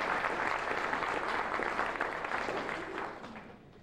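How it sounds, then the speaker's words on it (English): Guests at a 25th service anniversary celebration with Southwestern Bell give a round of applause, a steady, moderately loud crowd of clapping hands that gradually tapers off toward the end. "I'd like a big round of applause from my good friend Yolanda."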